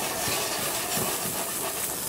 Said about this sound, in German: Pfanne ist heiß genug. Schöne Handvoll Pfifferlinge hier rein.